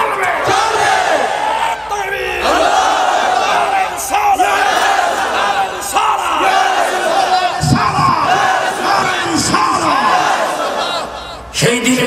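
A large crowd at a Sunni religious rally roars the slogan 'Ya Rasulullah' in loud, repeated collective shouts, surging in waves that nearly fill the entire stretch.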